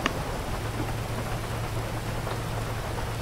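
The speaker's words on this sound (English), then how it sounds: "It's raining." Rain pours steadily in a roleplay video game, a dense, even hiss of drops with a soft low rumble underneath and no voices.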